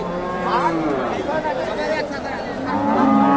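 Friesian heifers low and moo repeatedly at a busy weekly cattle market in Bogura, the calls overlapping amid crowd chatter and livestock noise, loud and close.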